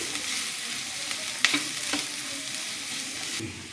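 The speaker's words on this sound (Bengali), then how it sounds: "এবার এখানে কুচোনো পেঁয়াজটাকে দিয়ে দেবো।" Finely chopped onions fry in a pan with a continuous close sizzle and a brief stirring clink in the middle, with no talk over it.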